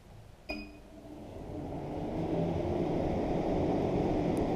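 MAXXAIR roof vent fan on a cargo trailer, a brief clink followed by a steady airy whoosh that spins up and holds at a constant level, close and alone.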